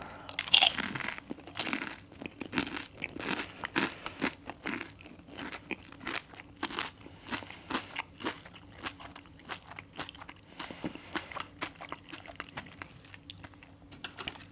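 Loud, crisp crunching from close-up chewing of McDonald's McPlant plant-based nuggets, with repeated sharp bites and crackles in a steady rhythm, no talking.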